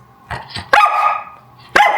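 A dog barks several times nearby, with two softer barks followed by two loud, sharp ones about a second apart, and no talking.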